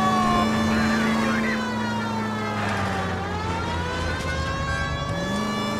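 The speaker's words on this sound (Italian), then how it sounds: "andare in giro con la sirena rende tutto molto più facile" A police car siren in the video game L.A. Noire wails with rising and falling tones over a running engine, close and loud throughout.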